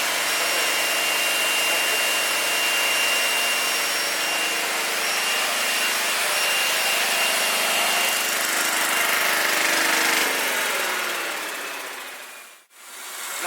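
A brushless generator runs with a steady mechanical whir and hum at moderate distance. The sound holds constant, then winds down and cuts out near the end before a brief restart.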